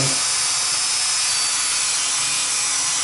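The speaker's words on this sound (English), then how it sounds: "I'm going around that little bitty battery and trying to clean off as much as I can." A small Galaxy S3 phone battery has its corrosion scrubbed off in a steady, close, hissing rub that continues without pause or talk.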